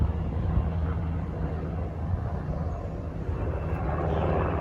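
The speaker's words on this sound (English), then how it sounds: "got a helicopter going on it overhead" A helicopter flies overhead above a garden of tomato plants, giving a loud, steady engine drone with rotor rumble that swells slightly toward the end, with no voices.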